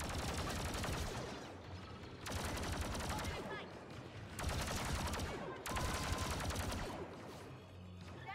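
Blaster fire in the Star Wars Battlefront 2 campaign, repeated sustained volleys of energy weapon shots in four long bursts separated by short pauses, loud and dense, with faint voices mixed in.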